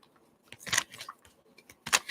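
Tarot cards shuffled in short papery bursts, a few quick riffles and slides spaced irregularly, close and fairly soft.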